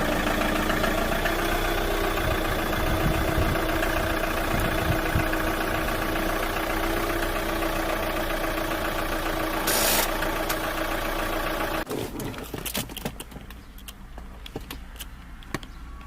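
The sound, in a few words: manual car engine idling in neutral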